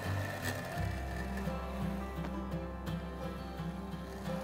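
A small robotic lawn mower motor whirs and labors steadily in thick grass, its pitch dipping and straining as it pushes through resistance, close to stalling, close by with no voices.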